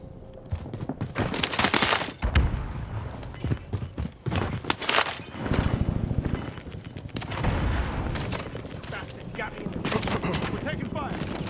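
Rapid bursts of automatic gunfire in a Call of Duty battle royale match, loud and close, with dense volleys and scattered single shots over continuous game noise, no talking.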